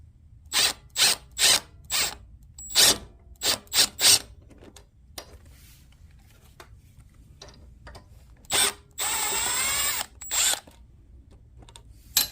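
Screws are loosened on a Craftsman 3300 psi pressure washer water pump: a series of close, crisp ratcheting bursts in an uneven rhythm, followed by a longer steady power-tool whir and a final click.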